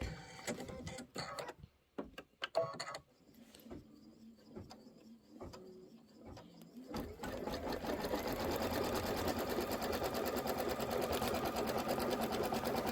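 A sewing machine stitches the borders of a quilted pillow. A few short start-stop bursts and clicks come first, then a steady, rapid mechanical whir runs for several seconds. Close and fairly quiet, with no talking.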